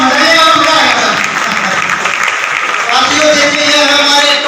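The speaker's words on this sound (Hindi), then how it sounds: "एक बार ताली बजाइए सर" An audience at a grand business seminar in Delhi claps, a dense, sustained wash of applause that is partly masked by a loud voice speaking over amplified sound.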